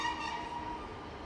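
A Class 150 diesel multiple unit train at Exeter St Davids station gives a steady, sustained rumble with a tonal horn-like hum running throughout, moderately loud and continuous with no voices.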